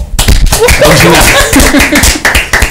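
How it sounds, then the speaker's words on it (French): A small studio audience on a French-language morning radio show claps in short, uneven bursts, loud and close, with some laughter and voices mixed in. "Applaudissez pour moi."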